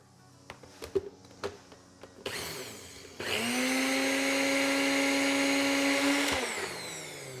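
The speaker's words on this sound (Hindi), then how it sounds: "तो ये हम ब्लेंडर लेंगे और इसमें सबसे पहले खसखस डाल देंगे।" A few light taps and knocks, then a blender grinding poppy seeds whirs into a loud, steady high-pitched grind for several seconds before winding down.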